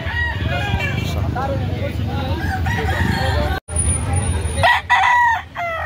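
A black-legged rooster at a Cebu City cockfighting line crows close by, loud and repeated, under a crowded din of people talking and clucking fowl.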